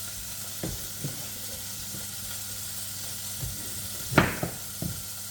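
Beef cooks in a pan with a soft, steady sizzle, broken by a few sharp stirring clinks and scrapes, the loudest coming near the end.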